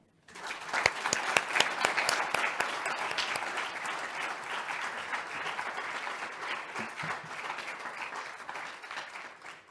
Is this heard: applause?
yes